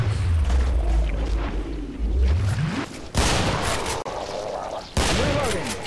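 Gunfire rattles in the video game Killing Floor, loud rapid bursts and volleys with sharp breaks between them, played during a co-op session among friends.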